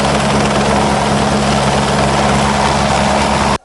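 A helicopter from the Sigiriya naval camp arriving at a site in Sri Lanka, a loud, continuous rotor thrum with steady low pulsing, close and unbroken until it cuts off abruptly at the end.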